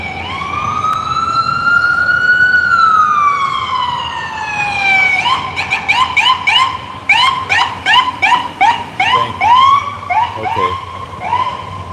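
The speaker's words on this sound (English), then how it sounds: "Here comes another freaking ambulance." Ambulance siren passing nearby on a city street during a protest, first a long rising and falling wail, then shifting into a rapid yelping pattern, loud and close throughout.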